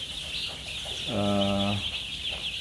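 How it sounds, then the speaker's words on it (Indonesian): Kampung chickens and young chicks on a farm: one clear, drawn-out cluck rises in the middle over a steady bed of high, constant chick peeping, close by. "di belakang ini ada 400 ekor DOC ya"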